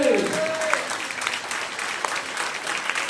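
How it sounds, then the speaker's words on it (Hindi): A church congregation claps together at a sermon, a steady, moderately loud burst of applause over three seconds with a brief voice or tone at the start. "ताली बजाएंगे।"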